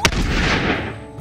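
A single loud gunshot for a headshot in the physics battle game Totally Accurate Battle Simulator, one sharp crack up front followed by a booming decay.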